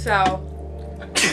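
A sharp, explosive burst at the end, matching a human sneeze, comes right after a short spoken word. A second, quieter breathy burst appears near the start, and a low steady hum runs underneath throughout.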